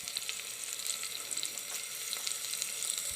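Onions and cashews fry in hot oil for a prawn biryani, a steady soft sizzle with scattered crackles and pops close by and no voices.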